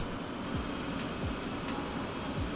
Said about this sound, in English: you'll hear the engine start to ramp up